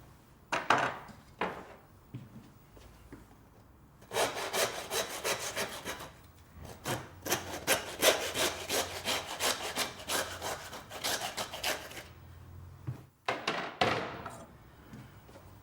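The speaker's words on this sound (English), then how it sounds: "When sawing, just make sure that we only saw through the bone" A hand saw rasps back and forth through pig bone in quick rhythmic strokes, grinding through the hard bone with brief pauses between bursts, during carcass breakdown.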